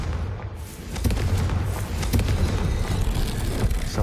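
Confringo blasting curse explosion in Hogwarts Legacy: a deep booming blast swells after a brief quiet start and rumbles on with scattered crackling thumps, loud and close.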